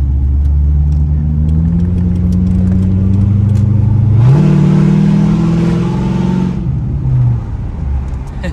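A roughly twenty-year-old Chevrolet Corvette engine revs up under a quarter throttle, its low rumble climbing steadily and surging louder for a couple of seconds before easing back, heard close from inside the car.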